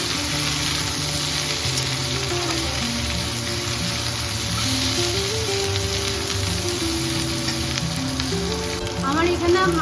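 Kajali fish frying with chilli and spices as it is stirred, a continuous hiss of sizzling oil under background music, with occasional scraping movements.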